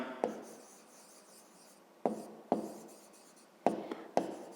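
Pen or pencil writing a math solution by hand, bursts of scratchy strokes with sharp taps between them, close and quiet, with no voices.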